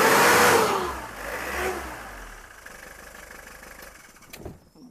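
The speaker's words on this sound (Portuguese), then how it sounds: "O carro pegou." A car engine catches and revs loudly close by, rising to a strong roar that then eases back and settles toward idle.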